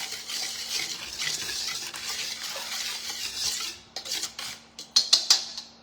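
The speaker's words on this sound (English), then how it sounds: "To that we're gonna add 1 tablespoon of baking powder. We're gonna whisk it together." A whisk stirs baking powder into dry biscotti ingredients in a bowl, making a soft, steady swishing scrape. It ends in a few sharp clinks of metal against the bowl.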